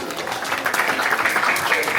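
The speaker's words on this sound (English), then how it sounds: "Give yourselves a big round of applause" A classroom of students applauds together, a dense patter of many hands clapping close by for about two seconds.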